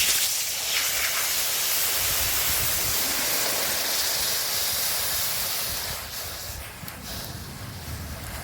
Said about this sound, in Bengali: কড়াইয়ে জল দিয়ে দেবো।